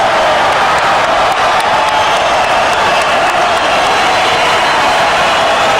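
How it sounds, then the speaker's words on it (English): A boxing crowd cheering and applauding after two world champions fight toe-to-toe, a loud, continuous roar of voices and clapping filling the whole arena. "And an appreciative crowd."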